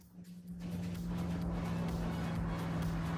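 A car engine in the racing game Forza Horizon 6 drones in a steady, low, quiet hum that comes in after a brief quieter start and holds constant to the end.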